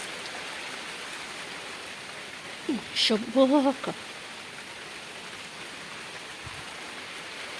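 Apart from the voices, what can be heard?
rain falling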